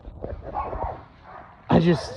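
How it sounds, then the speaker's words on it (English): A dog barks once, a short loud yelp at the end, after a stretch of quieter whimpering or muffled sounds with a person talking over it. "There's my dog."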